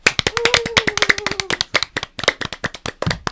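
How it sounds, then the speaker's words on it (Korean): Two podcast hosts clapping in a small studio to celebrate a successful funding round: quick, close, uneven handclaps rattling off in a sustained burst, with a brief held vocal tone over the first part. "박수를 평소보다 좀 오래 쳤네요."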